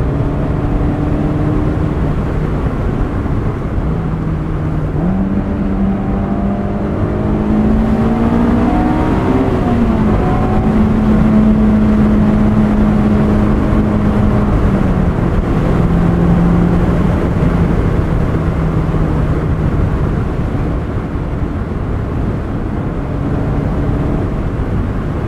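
From the driver's seat of a 2005 Honda S2000, the engine hums steadily while driving, rising and falling gently with throttle as a constant road and wind rush fills the cabin.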